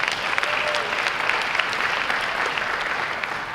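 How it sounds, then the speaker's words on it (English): Audience applause at a college-hosted community fair, a steady, dense run of clapping with some sharp individual claps near the front, sustained for several seconds without speech. "so please give them a round of applause."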